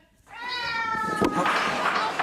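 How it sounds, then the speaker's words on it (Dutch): A cat meows with a drawn-out, rising cry up close, with a brief knock partway through and background noise continuing after. "Ga weg, Poes, ga weg."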